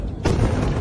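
A single heavy boom from an explosion in Israeli news footage, a sudden loud low-frequency blast that rolls on with a sustained rumble.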